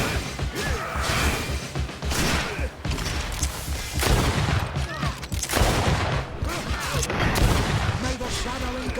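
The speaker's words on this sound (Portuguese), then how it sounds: "Tô só atirando agora aqui." Repeated bursts of video game gunfire, sharp loud shots and crashing booms in rapid clusters across several seconds, with a voice talking intermittently underneath.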